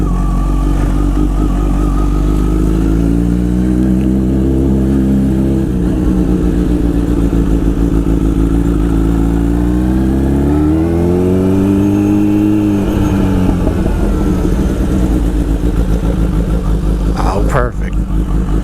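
A 2020 Kawasaki Z H2 motorcycle engine pulls steadily on a ride, its pitch rising and falling through throttle changes, loud and close throughout with a brief dip near the end.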